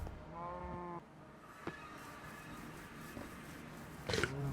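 Cows in the Minecraft video game low with bleating, livestock-like calls: one drawn-out call, then a brief sharper one near the end over steady game background noise.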